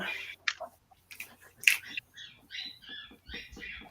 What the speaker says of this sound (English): That's a squeaky toy that he must have found.